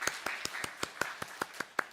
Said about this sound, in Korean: 우리 박수로 함께 모든 영광 하나님께 올려드리도록 하겠습니다